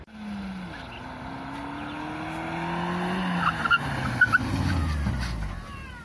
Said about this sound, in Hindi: जब मैंने एबीएस ब्रेक अप्लाई किया तो गाड़ी बिना स्किड किए एकदम आराम से सीधी जाके रुक गई